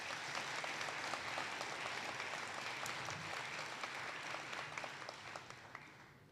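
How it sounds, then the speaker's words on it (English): An audience at a spring college commencement ceremony applauds in a sustained, even patter of many hands, moderately distant and fading slightly toward the end. "Let's give them a round of applause,"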